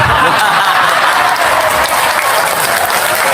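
Steady, loud audience applause with crowd murmur at a religious sermon event, continuous clapping throughout without a break.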